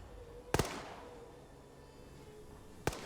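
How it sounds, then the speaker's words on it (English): Gunfire from the military game Arma 3: two sharp, distant-sounding shots about two seconds apart, each with a short echoing tail, over a low ambient hum. "Now you're seeing some suppressive fire coming up from BLUFOR as they try to make this pincer maneuver"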